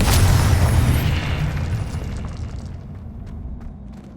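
A Confringo explosive spell blast in Hogwarts Legacy: a single loud, close boom with a sharp onset that rumbles and slowly fades over a few seconds, with no talk.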